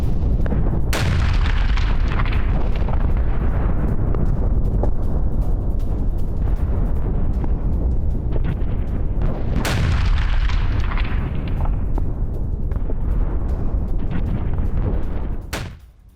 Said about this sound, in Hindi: यूक्रेन का SDB-5 बम से बड़ा हमला हुआ। रूसी खंडकों में विस्फोट के बाद आग लग गई।